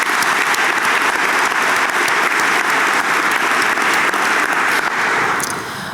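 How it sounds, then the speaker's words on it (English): A large audience at a college convocation and reunion gives loud, sustained applause, a thick uniform roar of many clapping hands that holds steady before easing slightly at the end. "Can we give Ralph a round of applause?"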